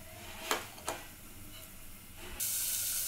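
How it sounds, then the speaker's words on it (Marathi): Chopped onion starts sautéing in a pan. Two soft taps come first, then a strong, steady hiss of frying rises suddenly and carries on to the end. "आता आपण कांदा व्यवस्थित छान परतून घेऊया मऊ होईपर्यंत"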